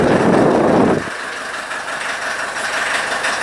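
The heater fan of a Mercedes W123 blows air hard, giving a steady, close whooshing rush. A heavier burst at the start drops to a smoother, even flow.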